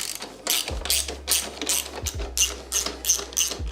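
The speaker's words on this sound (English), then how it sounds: "Now I'm going to hand tighten the screws" Screws on a motorcycle's rear frame mount are turned with a ratcheting tool, giving close, rhythmic bursts of clicking, about nine in quick succession.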